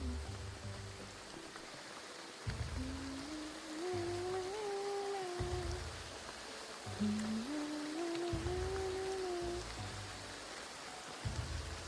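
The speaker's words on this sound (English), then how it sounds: "It's raining." Steady rainfall in the game Graveyard Keeper, a constant soft hiss of falling drops at low level, with a melodic tone gliding in and out on top.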